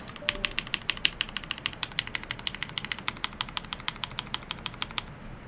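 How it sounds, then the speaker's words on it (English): Rapid typing on a mechanical keyboard, the Red PC model, a quick, even run of close, crisp clacks lasting about five seconds, then stopping. "It sounds like a 70K keyboard."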